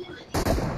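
A gunshot in the PUBG battle royale game, played on an ROG Phone 3, cuts in sharply after a short lull and rings on as a loud burst with a brief dip and a second crack.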